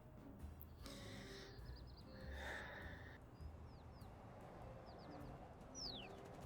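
Pigeons coo softly in the game Little Kitty, Big City, a few low murmuring calls over a steady ambient background, with brief chirps and a couple of faint whistling tones.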